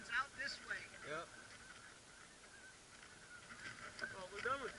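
Geese honking in a loose group at a waterfowl hunting spot, repeated nasal calls at moderate distance, bursts at the start and again near the end, with faint background noise.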